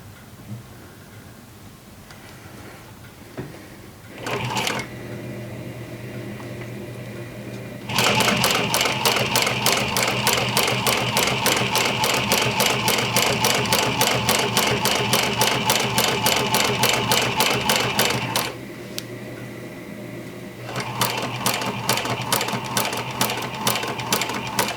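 A sewing machine stitches a jeans seam nearby in long, loud, steady runs with a fast even clatter, pausing briefly between passes before starting up again.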